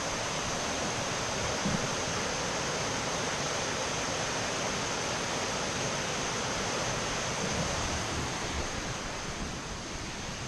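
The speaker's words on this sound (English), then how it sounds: "Water sliding down that rock there." In the Great Smoky Mountains, water slides down a rock face, giving a steady, even rushing hiss that stays constant throughout with no other sounds.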